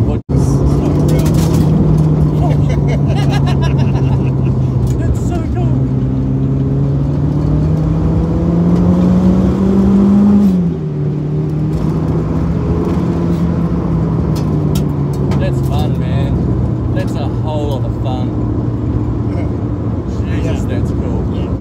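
A Toyota AE92 race car with a 1.8-litre Toyota Carina bottom end, revving loudly while driving, its steady engine drone rising and falling in pitch with gear changes throughout, with people talking over it.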